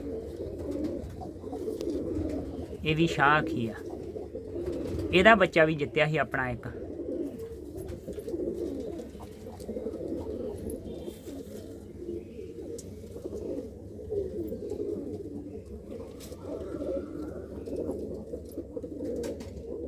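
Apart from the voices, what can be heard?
pigeons cooing in a loft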